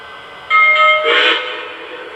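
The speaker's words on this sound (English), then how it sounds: "The locomotive will confirm you've entered sequence mode with 2 quick rings of the bell and a short whistle." A Lionel LEGACY 4-12-2 three-cylinder model locomotive gives a couple of quick bell rings followed by a short whistle blast, close and clear over a faint background hum.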